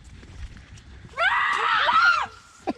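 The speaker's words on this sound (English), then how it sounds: "I hear some screams." A single loud, shrill scream bursts out for about a second inside a haunted corn maze in Metcalfe County, Kentucky, rising sharply over quiet background noise before cutting off.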